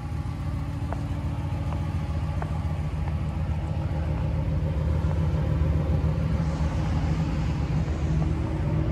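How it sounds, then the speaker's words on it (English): A 2018 Ram 1500's Hemi V8 idles with a deep, steady rumble from its dual exhaust, continuous and close, with no voices. "Dual exhaust, you can probably hear those. It's a nice sounding Hemi."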